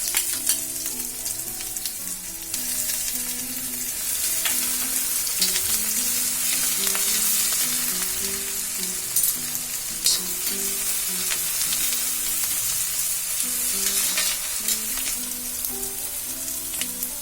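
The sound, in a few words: crushed ginger and garlic frying with curry leaves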